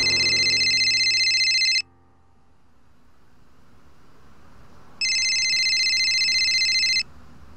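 An incoming-call ringtone on a phone sounds in two loud electronic bursts, the first lasting about two seconds, then a quiet gap, then a second burst of similar length.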